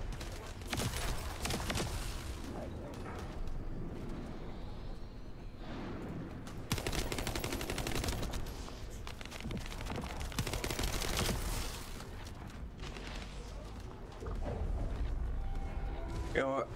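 Sustained gunfire from shooting enemies in the video game The First Descendant: long, loud bursts of rapid automatic fire with short pauses between them, with a voice talking underneath.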